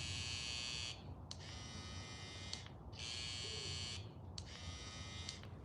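A Babyliss Saber hair trimmer runs in loud, steady buzzing bursts, switching on and off four times in a row up close, each burst lasting about a second.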